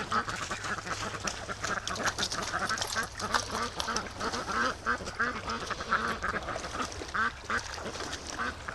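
A flock of Muscovy ducks keeps up a dense chorus of quacks and honks nearby, steady and lively throughout.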